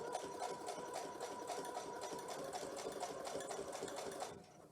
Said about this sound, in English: run them through the sewing machine